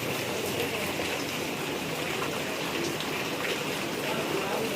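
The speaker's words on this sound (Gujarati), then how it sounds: "અત્યારે ફૂલ વરસાદ પડી રહ્યો છે, જો તમે જોઈ શકો છો." Heavy rain pours down in a dense, even hiss that stays loud and constant throughout, with no breaks.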